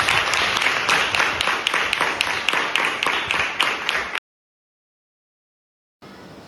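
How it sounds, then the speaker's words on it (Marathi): Audience applause at a Konkan news event, a rhythmic burst of group clapping for about four seconds that stops abruptly, followed by silence and then a brief return of clapping. "जोरदार टाळ्या एकदा होते."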